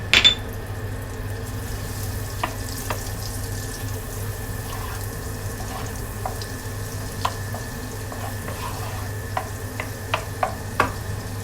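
Butter in a pan with a little cooking oil, giving a soft, steady sizzle under a low hum, with a few faint crackles and pops.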